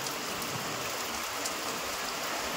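Steady rain falls outdoors in a hilly rural area, a continuous soft patter that is fairly faint and even, with no voices.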